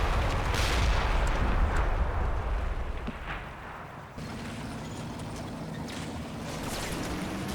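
Distant rumbling artillery and gunfire in the World War II game Combat Mission during the Operation Epsom battle at the Odon bridges, with booms rolling under a continuous low ambient roar.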